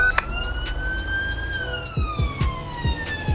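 A police car siren in GTA 5 wails with a rising and falling tone over traffic rumble, with several short chirping yelps near the end.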